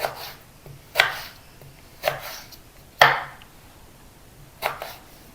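Brinjal being chopped with a knife on a board for a palya dish: five sharp, separate knife strikes at an uneven pace, close and fairly loud, with no talking.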